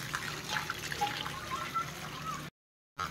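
Water spills and trickles steadily as a household water tank is drained before cleaning, a faint, continuous splashing flow that drops out briefly near the end.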